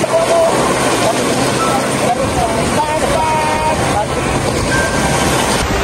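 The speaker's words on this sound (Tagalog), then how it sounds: "Lakas po ng alon" Strong waves wash and slosh continuously close by, with heavy wind buffeting the microphone and no pause in the roar.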